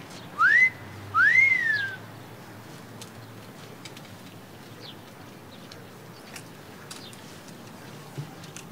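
Two short rising whistles from a person, each a quick upward sweep, then quiet background hiss for the rest of the time.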